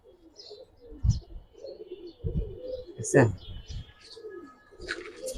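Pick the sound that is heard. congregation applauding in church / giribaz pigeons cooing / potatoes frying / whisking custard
giribaz pigeons cooing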